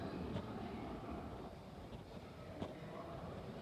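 A train runs through Clapham Junction station on the London rail network, a steady distant rumble and rushing wash with a couple of faint clanks, no voices.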